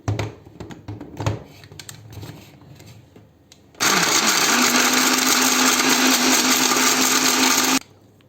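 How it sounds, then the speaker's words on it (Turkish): Faint rustling and handling noises give way to a loud, steady blender roar grinding citrus peels continuously for several seconds, then cutting off abruptly. "Blender'dan çekiyoruz arkadaşlar bunu"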